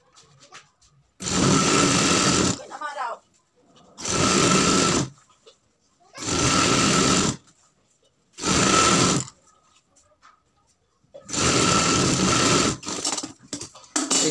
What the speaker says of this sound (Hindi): सिलाई लगाएंगे यहाँ पे।